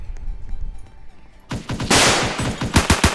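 Rapid bursts of automatic gunfire in the Roblox shooter Salvage, quiet at first, then loud, dense volleys with sharp individual shots in the last second.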